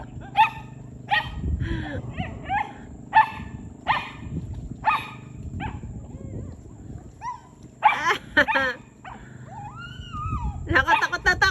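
Several dogs barking, whimpering and whining near water, some very close and others farther off, in repeated bursts with high yelps, while people talk throughout.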